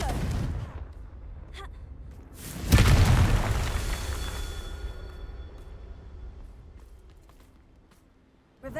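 Confringo fire spell explosion in the Hogwarts Legacy video game: one loud, booming burst near the middle that fades out slowly, with quieter game sounds before it.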